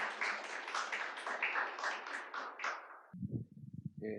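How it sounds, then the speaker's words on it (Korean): A church congregation applauds to welcome missionaries serving in the Philippines and the Middle East, a dense, sustained clapping that fills the first three seconds before giving way to low, muffled sounds. "우리 선교사님 나오실 때 우리 큰 박수로 환영해 주시면 좋겠습니다."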